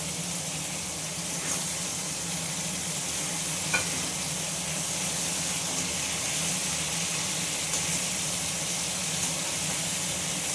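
Tomato tipped into a hot pan of Bengali home cooking sets off a steady, loud sizzle and frying hiss that runs evenly throughout, with faint stirring scrapes and no talk.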